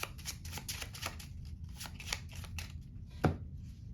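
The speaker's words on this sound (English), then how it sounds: "we're each going to shuffle up our piles" Rapid riffling and flicking of playing cards being shuffled, a quick run of crisp bursts followed by a single sharper tap, close and quiet.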